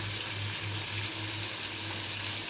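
Mutton vada dipped in roasted gram powder frying in a pan of hot oil, giving a steady, even sizzle with a low hum beneath, close and continuous throughout.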